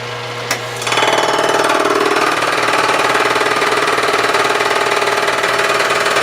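A fly cutter machines the exhaust face of a Ford FE 390 cylinder head, taking a 15-thousandths pass; after a brief quiet start the loud, steady cutting whine and rapid chatter run continuously to the end.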